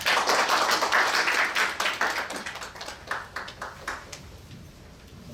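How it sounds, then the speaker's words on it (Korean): Applause greets a speaker at a software presentation in Korea: a burst of clapping that thins out into scattered individual claps and dies away within a few seconds. "박수 많이 주시기 바랍니다."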